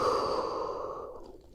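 A single long exhale during vinyasa yoga, close and breathy, starting strong and tapering into silence within a second and a half.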